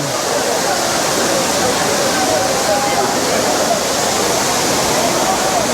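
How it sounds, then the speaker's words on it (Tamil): Water plunges from a great height at Courtallam's Main Falls, where crowds bathe, making a loud, steady roar that fills the whole stretch without a break. "எவ்வளோ உயரத்துலேருந்து கொட்டிகிட்டு பாருங்கள் மெயின் ஃபால்ஸில் தண்ணி"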